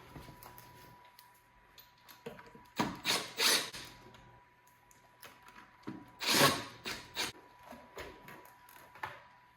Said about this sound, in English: So I'm going to take this airbox cover off.